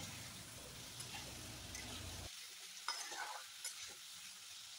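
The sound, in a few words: stirring frying potatoes with spices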